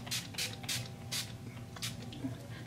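NYX Matte Finish Long Lasting setting spray is misted onto a face in several quick, soft hissing bursts, close to the microphone and fairly quiet, with a faint hum underneath.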